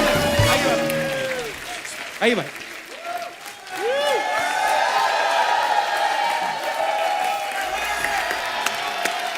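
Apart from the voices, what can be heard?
studio audience applause for guests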